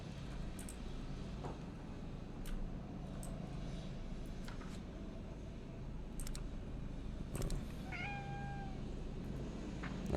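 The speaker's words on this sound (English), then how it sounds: "I hear you, kitty." A single cat meow rises clearly near the end, set against a low, constant droning hum and a few scattered clicks in the Lovecraftian horror game Conarium.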